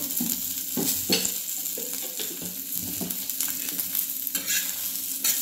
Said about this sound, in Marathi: थोडं तेल ओतून भाजायचं। चांगलं भाजतंय।